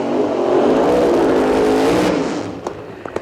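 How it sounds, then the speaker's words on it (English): Nitro-burning drag racing engines at an NHRA national event roar loud and steady at the start line, a dense sustained revving that fades after about two seconds, leaving a few sharp pops and crackles. "You hear the sound of the nitro-burning engines of our next pair of cars ready to go."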